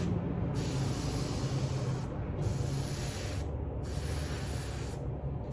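Spray paint misting onto an old deer mount being restored, delivered as three steady hissing bursts of two seconds or so, each cut off by short pauses, heard close up with no voices.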